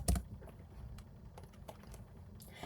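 Typing on a computer keyboard while entering a search term into a text box, heard as a few quiet, scattered key clicks spread across a couple of seconds.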